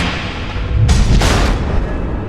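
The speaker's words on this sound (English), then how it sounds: "The missiles." Missile explosions in Batman: The Enemy Within, heavy booming blasts that rise sharply out of a loud rumbling background, with two bursts close together near the middle, loud and near.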